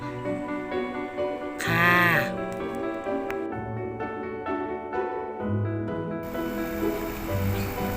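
Khai Tom, a pet cat, lets out one loud, drawn-out yowling meow near the start, followed by quieter background sounds.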